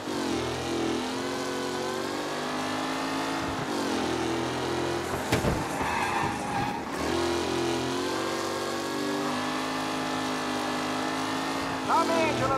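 Race cars roar and rev continuously in the Mafia Definitive Edition racing game, engines droning steadily with shifting pitch as they accelerate, with a brief louder burst midway.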